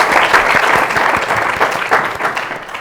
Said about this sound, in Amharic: አጨብጭቡለት፣ አጨብጭቡለት